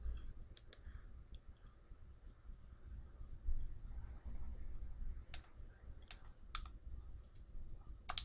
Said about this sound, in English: I'm going to click to play the link.